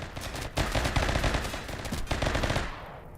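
Rapid automatic gunfire in RimWorld, a Save Our Ship raid on a trade ship, rattling in dense sustained bursts with a short break near the half-second mark, then continuing loud and close before cutting off at the end.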